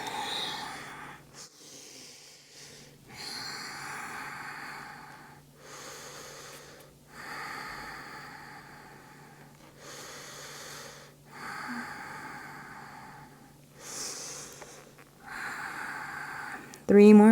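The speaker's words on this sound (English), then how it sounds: "Three more breaths." Slow, deep breaths during a yoga hip-opening stretch, several long audible inhales and exhales in an even rhythm, close and soft, with quiet gaps between them.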